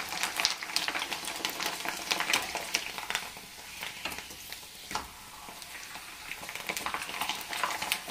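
Aviri vadiyalu, sun-dried lentil fritters, sizzling steadily as they fry in hot oil, a continuous crackling hiss with brief spatters and occasional utensil stirs, close by with no talking.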